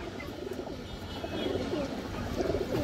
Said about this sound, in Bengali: আরও একটা সিলভার নর কবুতর